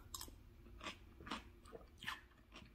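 Crunchy cabbage water kimchi chewed up close, with several crisp bites and wet crunches in a loose rhythm, a louder burst about every half second, with no talking.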